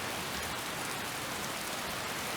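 Steady rain in the Solitude city area of a video game, an even, dense hiss of falling drops with no clear individual patters, constant and unbroken throughout.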